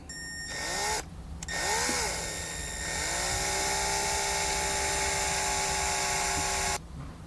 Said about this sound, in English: I'm going to drill out the center of each one of those holes